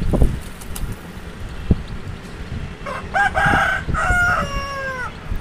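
A rooster that has hopped up onto a chair crows once nearby, a clear, drawn-out cock-a-doodle-doo over scattered clicks and knocks in the background.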